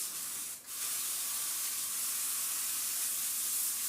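Beef shanks rinsed under a running tap, a steady bright hiss of water that dips briefly near the start and then flows on evenly and close.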